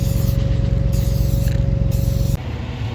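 A spray paint can marks a hay bale red in the field, giving three short hissing bursts over the steady drone and low hum of nearby farm machinery, which drops away abruptly near the end.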